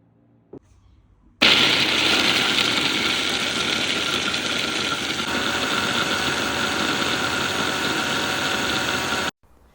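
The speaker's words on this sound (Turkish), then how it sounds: "300 gram kavrulmuş fındığı mutfak robotun içerisine ekliyoruz." Food processor grinding 300 g of roasted hazelnuts, a loud continuous whirring roar that starts abruptly, holds steady for about eight seconds, then cuts off sharply.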